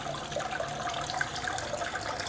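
Water runs onto a gold dust concentrating table, a steady trickling and gushing wash of liquid that continues throughout without a break.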